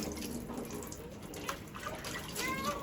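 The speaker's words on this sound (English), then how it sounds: "just simply pour the water on the baby's head as if baby is getting a salon treatment" Water is poured gently over a newborn's head during a bath, a soft continuous trickle and splash that rises slightly toward the end, faint and close.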